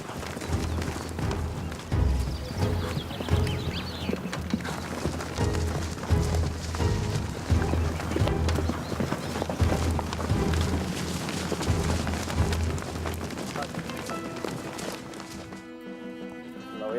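Horse hooves clip-clop in a dense, steady rhythm during a display of traditional Spanish horsemanship, loud and close for most of the stretch before dropping away near the end, where a brief voice and music-like tones come in.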